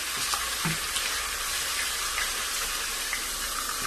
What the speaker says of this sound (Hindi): इसको हल्का सा फ्राई करेंगे ऑयल में, अदरक लहसुन को